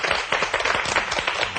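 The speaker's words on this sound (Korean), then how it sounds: "어머니 일일이 박수 한번 치셔야 됩니다." A mother claps her hands in a TV studio, a loud, close burst of rapid, continuous clapping that may include other hands joining in.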